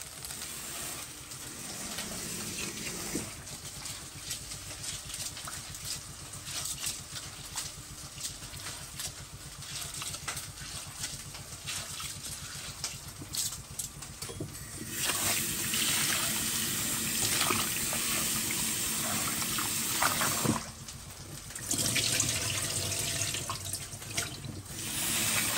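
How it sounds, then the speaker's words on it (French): Rice for a Réunion Creole rougail is washed under a running tap. The water hisses and splashes steadily with trickling and swishing, and the flow shifts partway through and pauses briefly near the end. No one speaks. "Maintenant, je vais laver le riz vite fait."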